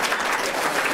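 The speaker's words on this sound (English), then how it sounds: "So a round of applause for Collin for that." Applause from an annual general meeting audience in Regina for a powerlifting gold medal winner, a dense, steady burst of clapping from many hands heard alone and close.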